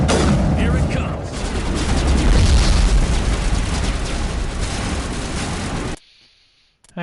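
Loud, sustained blasts and rumbling gunfire from grenade explosions in the video game Mass Effect fill about six seconds, then cut off abruptly to near silence.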